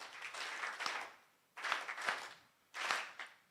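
An audience at a research conference on competition and consumer welfare claps in three separate bursts on a countdown, each a loud roar of many hands that stops sharply before the next.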